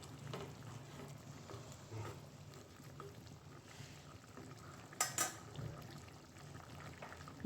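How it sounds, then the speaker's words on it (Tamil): Coconut milk is poured into a tamarind curry with okra, a soft, quiet liquid pour in a home kitchen, followed by brief clinks of a utensil against the pot. "இப்போது இந்த டைமில் நம்ம எடுத்து வச்சுருக்கிற தேங்காய் பால் ஒரு 1/2 கப் அதையும் சேர்த்துக்கலாம்"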